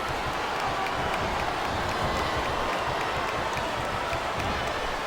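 A capacity arena crowd roars steadily in a WWE SmackDown vs RAW 2008 match between John Cena, Randy Orton and Bobby Lashley, a dense continuous wash of cheering and clapping with no let-up.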